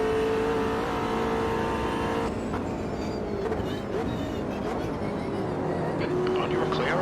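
A race car engine in a racing video game drones steadily and loudly throughout, with pitch shifts as it accelerates, under occasional talk.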